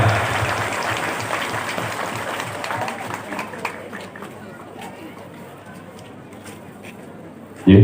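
Audience applause at a halal bihalal gathering of the NU district board and its affiliated bodies, a dense, loud burst of clapping that slowly thins and fades across the clip, with faint voices underneath.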